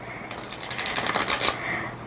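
A quick riffle of a stiff, barely used tarot deck, a rapid flurry of crisp flapping clicks lasting about a second, close and fairly loud in a quiet room.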